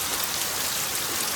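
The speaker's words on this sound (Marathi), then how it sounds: "बघूया पाऊस कधी थांबता." Steady rain pours down in a dense, even hiss close by, with no voices over it.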